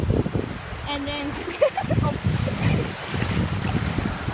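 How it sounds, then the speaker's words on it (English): Gusty beach wind buffets the microphone in low rumbling bursts while a person talks nearby. "It's also very windy"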